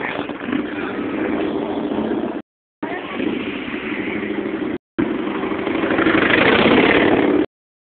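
Porsche engine idling at a car show, a steady close mid-pitched rumble that holds for several seconds, cut by two short gaps, then swells slightly louder near the end.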